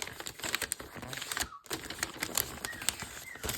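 Wrapping paper is folded and creased around a present, giving irregular crinkly crackles and soft rustles in close, busy bursts, with a brief quiet pause midway before the crumpling resumes.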